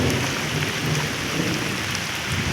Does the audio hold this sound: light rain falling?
yes